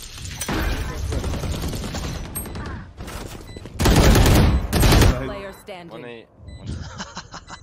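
Loud bursts of rifle fire ring out during a ranked Valorant match on the map Split, with sharp volleys that come and go as players talk and laugh over the shots.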